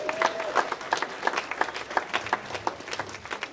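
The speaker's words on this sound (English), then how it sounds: "Let's give a round of applause for Amy." Wedding reception guests applauding after a toast, a short burst of scattered clapping from a modest crowd, fairly even and close, with a brief voice rising at the very start.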